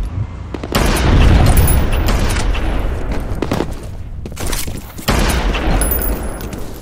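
A grenade blast in the first-person shooter F.E.A.R. booms close and loud, followed by rumbling debris and scattered gunfire, with a second heavy impact near the end.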